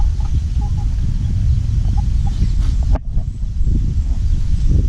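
Chickens cluck in a backyard vegetable garden, with short soft calls scattered over a steady low rustle and brief scratching noises nearby, continuing throughout.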